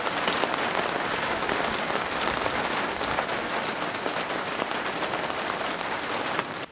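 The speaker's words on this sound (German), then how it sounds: "Ein Regentag voll herbstlicher Melancholie." Steady rain drums on a greenhouse on a melancholy autumn day, a dense, continuous patter of drops close by with no voices.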